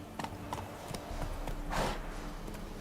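Geralt's horse Roach from The Witcher 3 moves at speed, with hoofbeats thudding in a quick run over steady game ambience and a brief louder swell near the end.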